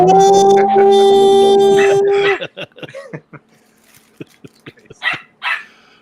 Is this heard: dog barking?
yes